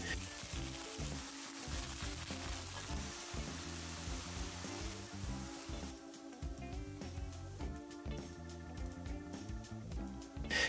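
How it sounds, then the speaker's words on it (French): Chanterelle mushrooms sautéing in a pan with olive oil, a knob of butter and finely chopped garlic, a soft continuous sizzle with light crackle, fairly quiet and steady. "je les fais revenir à la poêle avec un peu d'huile d'olive, une noisette de beurre et une gousse d'ail finement hachée"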